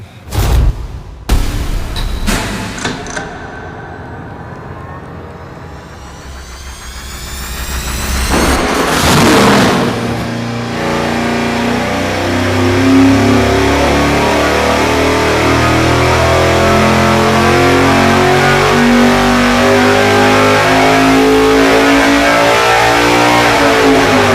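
A car engine on a dyno during a baseline pull: a few sharp bangs and clunks, then a long rising roar that builds to full, loud revs and holds steady near the end.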